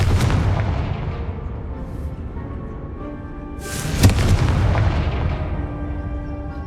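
A Confringo fire spell blasts in the Hogwarts Legacy video game, a loud booming burst near the middle that rings out over a dense, rumbling backdrop of game noise, with no talking.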